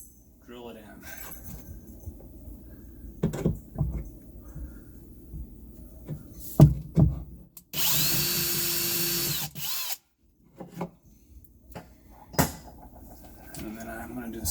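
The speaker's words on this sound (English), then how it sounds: "I'm going to use my self-centering drill bit to drill that hole" A power drill with a self-centering bit whirs into wood in one sustained burst of about two seconds, surrounded by quiet handling clatter and occasional low talk.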